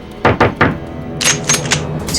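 Knocking on a locked door: several loud, sharp raps come close together, then a second quicker burst of knocks follows after a brief pause, with no voice over it.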